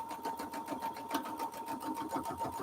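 A domestic sewing machine stitches along the line of a strawberry foundation paper pieced quilt block, giving a fast, even rhythmic chatter of needle strokes that sits close and clear with no talking over it.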